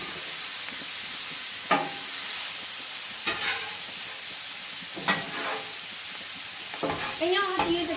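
Food fries on a griddle with a continuous close hiss and sizzle, broken by a few louder scraping and tapping strokes of a spatula at irregular intervals.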